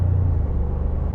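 A 2025 Toyota Tacoma TRD Pro cruising at high speed in windy conditions fills the cabin with a steady, loud low rumble of road and engine noise, with no pauses.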